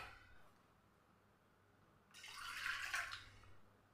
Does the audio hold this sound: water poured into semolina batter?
yes